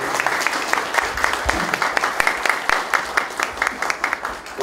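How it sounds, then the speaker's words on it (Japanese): An audience applauds at a formal award ceremony honouring an ambassador, a dense burst of hand clapping with crisp individual claps that stays steady for several seconds. "拍手お願いします"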